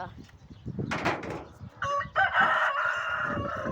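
Chickens cluck and call in short bursts, with a rooster-like crow rising partway through over rustling background noise.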